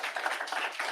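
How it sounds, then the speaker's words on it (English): Audience applause at the 2024 State of Black Detroit community event in Detroit: dense, steady clapping from a crowd, fairly close and sustained throughout, with no talk over it. "Please give a round of applause for Dr. Yousef Bun Shakur,"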